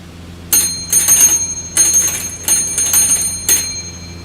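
A failure bell in Microsoft Flight Simulator, heard as several loud metallic rings in an irregular rhythm, each bright bell strike ringing briefly over a low steady hum, with no voices.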